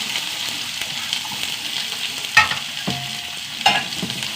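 Mustard seeds, onion and curry leaves fry in hot oil with a loud, close, steady sizzle, broken by a few sharp clinks of a stirring spoon against the pan.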